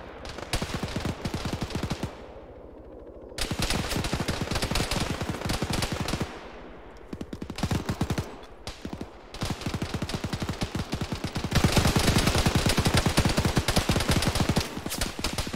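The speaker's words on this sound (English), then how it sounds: "I don't know who's shooting at me." Sustained gunfire in the military shooter game Arma during a ShackTac session, with dense rapid machine-gun bursts and volleys of shots crackling almost continuously, pausing briefly twice before resuming louder toward the end.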